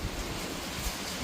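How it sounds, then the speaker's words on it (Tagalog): A brief burst of strong, rainy-weather wind roars and buffets steadily, a rough, noisy rush with no other sounds. "Lakas ng hangin."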